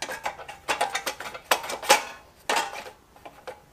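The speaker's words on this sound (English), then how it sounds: "let's see if we can just lift this shroud off without anything else in the way." Metal engine shroud on a lawn mower or generator being lifted off, with a run of sharp, close clinks, rattles and scrapes of sheet metal in irregular bursts, no talking.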